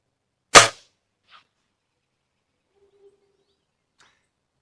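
A single sharp crack of a .22 rifle fired at a can on the right, loud and close, followed by a few faint distant ticks and near silence.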